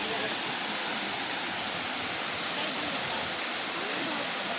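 A waterfall on a Bolinao tour, running low on water, gives a steady, dense rushing roar that holds even and unbroken throughout, close and fairly loud.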